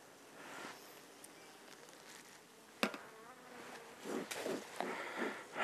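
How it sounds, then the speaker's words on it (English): Honeybees buzz inside a hive wintering in a single deep box up north, a faint, steady hum that swells near the end, with a sharp knock partway through. "There's a lot of bees down in the hive, as probably you can hear or tell."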